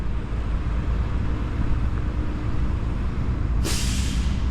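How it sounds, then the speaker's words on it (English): A bus rolls along a Tuscaloosa, Alabama street with a loud steady rumble, then a sharp hissing burst of air brakes near the end. "those are nice looking buses"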